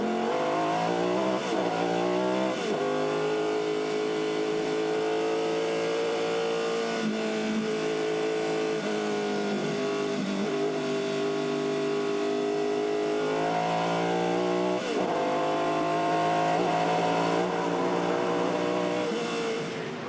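A Formula 5000 race car engine at Pukekohe Park raceway roars loudly and continuously, its pitch rising and falling with repeated throttle lifts and gear changes through the corners.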